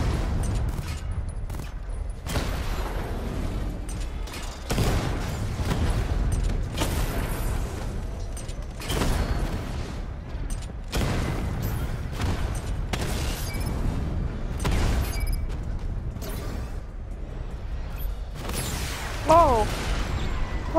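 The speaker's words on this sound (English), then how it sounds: "Machine guns." Machine gun fire and explosions in Batman: Arkham Knight, a long stretch of repeated bursts and booms in recurring waves, heavy rumbling combat noise with a voice talking intermittently over it.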